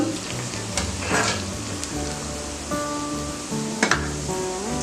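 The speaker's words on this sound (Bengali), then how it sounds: "এই যে পেঁয়াজটা হয়ে আসছে এখন" Onions sizzle in a hot pan for khichuri, a steady dense crackle with a few stirring scrapes, and faint music plays underneath.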